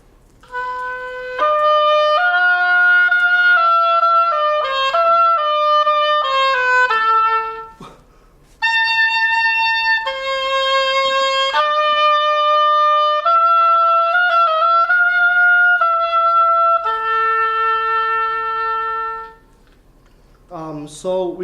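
Solo oboe playing a slow etude softly at piano dynamics, clear sustained notes in a legato line with a brief pause midway, close and alone, followed by a short voice at the end.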